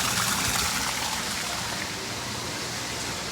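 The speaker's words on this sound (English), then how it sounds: "so it's just draining it into your waste right here" Pool water draining from a commercial pool's DE filter into a waste line, a steady hissing rush like a gushing stream that stays even and fairly close throughout, with no voices.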